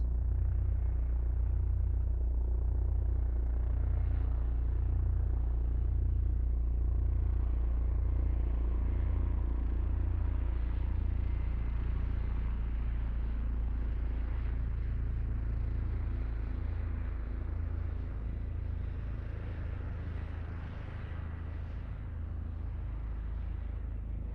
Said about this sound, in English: now we're going to listen to that same operating condition on the left side of the aircraft.